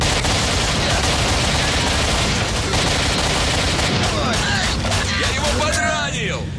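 Dense, continuous gunfire rattles from a shooter video game set against bandits, loud and crowded, and a voice shouts over the shooting.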